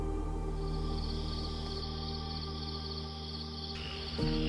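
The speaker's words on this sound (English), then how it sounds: "I can hear the sounds of insects and frogs" Insects chirp at night by the Yunhe rice terraces, a dense, steady trilling chorus with layered tones, constant and moderately loud throughout with no voices.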